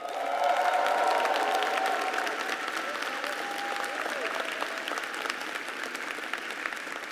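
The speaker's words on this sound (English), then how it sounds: "I want you to cheer right now, loud enough, for all of those people to hear." A large crowd of graduates at a spring diploma ceremony claps and cheers, a loud sustained wash of applause with a rising whoop at first, slowly settling but continuing throughout.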